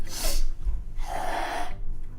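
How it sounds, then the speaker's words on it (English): A person sniffles alone at close range: two quick wet snorting inhales through the nose, the second a little longer. "I need to stop sniffling"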